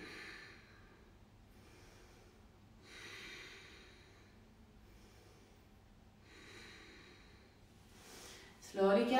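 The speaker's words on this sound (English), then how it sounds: "Deep breathing in your belly." Slow, deep belly breathing during a live yoga session, with several long, soft inhale-exhale cycles repeating steadily and close, ending in a louder rustle.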